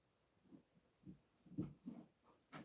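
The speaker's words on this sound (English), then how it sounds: "You might hear my dog." A dog just back from an evening walk in a home indoors, making soft short panting or sniffing breaths in quick irregular bursts, close by and fairly quiet.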